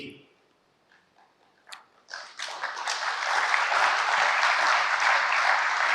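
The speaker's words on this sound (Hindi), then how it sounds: "ताली किस लिए बजाई?" An audience breaks into clapping after a quiet start with a few isolated sounds, swelling quickly into loud, sustained applause that holds to the end.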